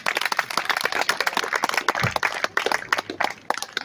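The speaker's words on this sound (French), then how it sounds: "on peut les applaudir" An audience at an eagle and bird-of-prey show claps in a dense, scattered patter of many hands, lasting about four seconds, with little talk.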